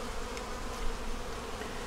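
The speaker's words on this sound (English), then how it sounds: "Little bees on the bottom trying to figure out what they're doing" Bees buzz in a dense, steady drone close by in the hive frames, a continuous hum without voices.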